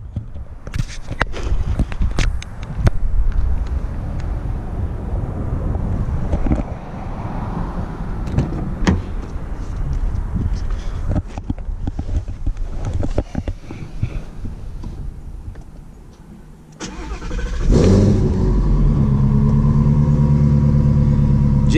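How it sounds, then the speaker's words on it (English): A Ford Mustang GT350 with an active Borla exhaust system starts up, shuffling and door sounds giving way to a loud engine catch and a deep, steady idle rumble close by. "Right now we're going to get in the car, we're going to fire it up."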